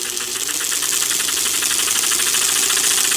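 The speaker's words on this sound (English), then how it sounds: "the motor is louder than the cylinder, and you can't hear it chug" A prewar American Flyer 564C toy train tender's motor runs steadily, a loud continuous mechanical whir and buzz with fast repetitive rattling that drowns out any chugging sound, close up with no voices.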